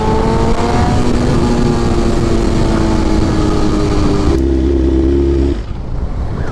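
A big bike motorcycle engine runs loud and close with a steady droning hum that shifts pitch, then cuts off abruptly near the end.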